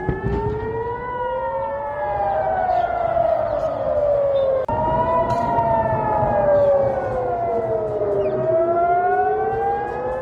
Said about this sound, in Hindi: एयर रेड सायरन बज रहे हैं